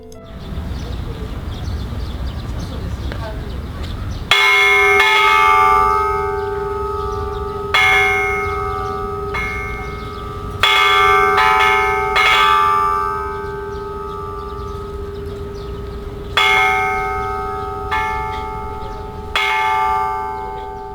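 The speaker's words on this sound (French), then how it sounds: "Le monument est aussi muni d'une cloche," A large bell at the peace monument in Hiroshima is struck repeatedly at irregular intervals, each loud clang ringing into a long sustained hum that decays between strikes, with faint ambient noise before the first strike.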